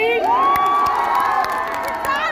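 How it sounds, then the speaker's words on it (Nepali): A large outdoor concert crowd in Rolpa cheering and whooping loudly for a singer, with shrill shouts rising over a continuous roar and some clapping. "एकचोटि जोरदार ताली."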